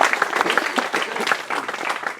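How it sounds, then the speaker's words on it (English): Audience applause at a tabletop wargaming league's awards ceremony, steady dense clapping from a crowd filling the whole stretch, close and loud without pause. "let's give him a round of applause, guys"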